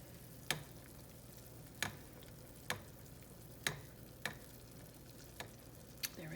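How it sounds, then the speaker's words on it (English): Melted lip balm wax in a pot on heat is stirred slowly, a spoon tapping the pot in a steady series of about seven light, evenly spaced clicks over a faint, quiet hiss. "I'm just gonna keep giving this a little bit of a stir."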